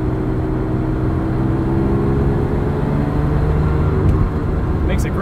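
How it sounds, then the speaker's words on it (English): A 1984 Ferrari 512 BBi's 12-cylinder engine drones steadily while driving, a dense, even hum from inside the cabin with road noise and a few faint clicks near the end. "Makes a great sound. Yeah, nothing like a 12-cylinder Ferrari."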